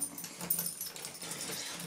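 A dog whimpers and whines indoors in short, soft, uneven bursts, fairly close but not loud, with no voices over it.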